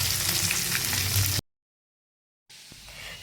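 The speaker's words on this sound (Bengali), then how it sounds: "বাকি পনিরগুলোকেও ভেজে নেব।" Paneer frying in a pan with a steady crackling sizzle, cut off by a short silent gap, then a quieter sizzle resumes.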